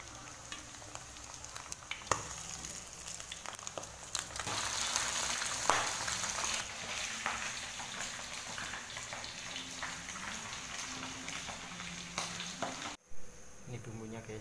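Eel fries in used cooking oil in a pan, a steady crackling sizzle with a faint hum beneath it, continuous and close throughout with a brief dip near the end.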